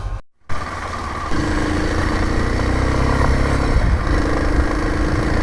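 A Kawasaki KLX 230 dirt bike, loaded with extra luggage, idles close by and then pulls away, its engine note rising into a steady, loud mid-pitched drone after a brief break at the start.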